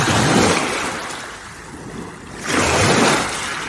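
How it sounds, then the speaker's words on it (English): Ocean waves roll in along a shore, a broad washing surge that swells, eases off, then builds again, with some wind rumble on the microphone and no speech. "Listen to the sound of the water"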